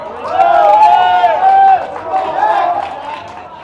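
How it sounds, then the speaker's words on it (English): Crowd cheering and hollering at a Las Vegas poker final table during a $200,000 championship game, a loud sustained roar of many voices that swells, dips briefly, then rises again. "This crowd's crazy."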